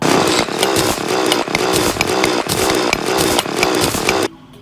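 A loud, harsh grinding crunch repeats in a steady rapid rhythm from block mining in Terraria 1.1, then cuts off abruptly near the end.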